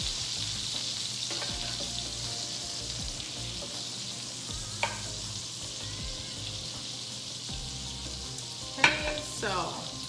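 Vegetables hit hot olive oil and butter, and a steady hiss of frying and sizzling follows close up, broken by a few clinks and stirring knocks from a utensil in the pan.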